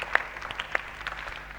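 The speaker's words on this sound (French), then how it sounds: "Applaudissons pour tous les parents." A church congregation at a Pentecostal Christmas celebration applauds the parents with light, scattered clapping that sounds fairly quiet and somewhat distant.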